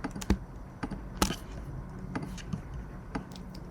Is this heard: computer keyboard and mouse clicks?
yes